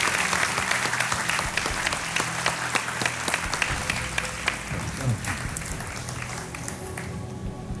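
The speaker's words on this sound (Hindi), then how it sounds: "तालियों के साथ आपका स्वागत है।" Studio audience applauding on a televised quiz show, a dense, steady burst of many hands clapping that carries on for several seconds, fairly loud and even, with music faintly underneath.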